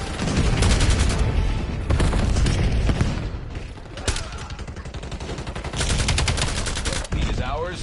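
Rapid gunfire rattles through a video game team deathmatch in dense, continuous bursts with booming impacts. Brief pauses and a few isolated shots break the volleys.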